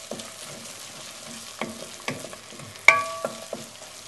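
Oregano stirred into a pan of sizzling garlic and onions for a chicken cutlet parmesan sauce, giving soft scraping stirs and light clinks over a low, steady sizzle, with one sharp utensil knock near the end.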